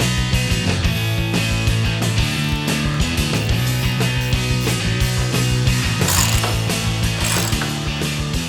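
A ratchet drives bolts to mount a Touratech lower crash bar on a motorcycle, clicking in a fast steady rhythm throughout, loud and close with no one speaking.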